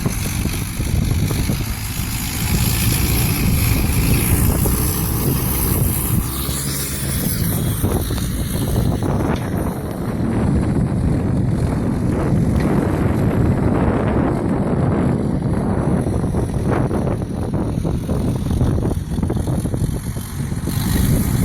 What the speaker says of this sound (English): it's a little windy and I'm trying to protect the phone from the wind